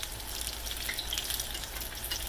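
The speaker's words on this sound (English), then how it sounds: "They're really frying up pretty." Apple fritters fry in hot oil with a steady, close hiss and fine crackling bubbles that continue evenly throughout, with no talking.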